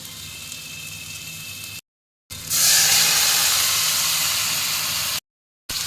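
Loitta fish hisses and sizzles loudly as it hits a pan of frying onion and garlic, a steady bright crackle broken by two short silent gaps.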